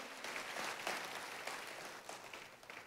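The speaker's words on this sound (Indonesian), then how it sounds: "Tepuk tangannya yang paling meriah buat Tuhan kita" A church congregation applauds for God, a steady, moderately distant wash of many clapping hands that ebbs and swells over a few seconds.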